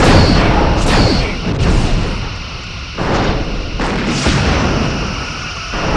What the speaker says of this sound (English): Rear torpedoes.